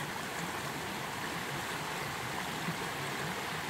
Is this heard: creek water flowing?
yes